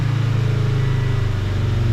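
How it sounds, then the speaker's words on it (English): A car engine revved and held at around 3000 rpm while the cooling system is being bled, a steady mid-pitched drone with a faint throb that stays close and loud throughout, with no talking. "rev it maybe"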